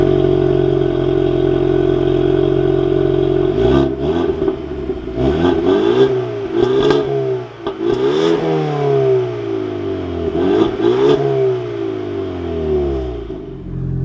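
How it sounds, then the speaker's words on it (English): A 2024 Ford Mustang EcoBoost engine cranks and fires up a few seconds in, then revs repeatedly with rising and falling pitch before settling, loud and close from inside the cabin, with a steady hum underneath. "now inside the all-new Ford Mustang EcoBoost, keep my foot on the brake. We can go ahead and fire it up."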